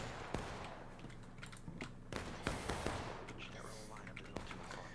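Scattered musket shots at Burnside's Bridge in a Civil War video game: a few sharp, fairly distant cracks fired independently, not as one volley, over quiet murmuring voices.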